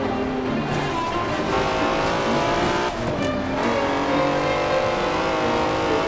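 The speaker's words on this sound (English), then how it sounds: "That's a 90-year-old racing car." A 90-year-old racing car in Forza Horizon 4 drives at speed, its engine a loud continuous drone that revs and shifts pitch, with a brief dip near the middle and tire noise, no talk.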